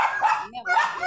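A dog gives two quick, close barks, brief and yappy, in a junk shop setting.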